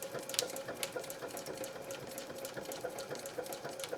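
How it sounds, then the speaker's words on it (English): A Janome 3160 QDC sewing machine runs at moderate speed with its auto presser handling tricky material, giving a soft, continuous rapid stitching chatter heard close and alone. "What a beautiful running machine"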